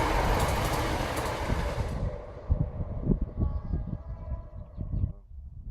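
A train runs along a track beside a dry, grassy field, a loud steady rumble that rolls and clatters, then fades as the train moves away.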